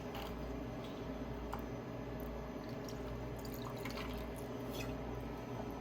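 Limoncello is poured into a measure, giving a steady faint trickle and dripping close by, with light ticks over a quiet background hum.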